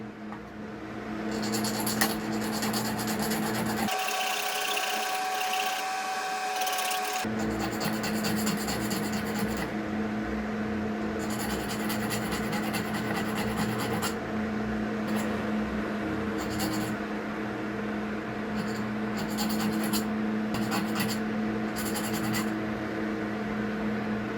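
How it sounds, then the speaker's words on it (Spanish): A metal file rasps off the excess from a freshly cut small wedge in steady, repeated back-and-forth strokes, close and continuous, with a short pause partway through. "Tomo la lima y con la lima le quito el excedente que me quede de ese corte."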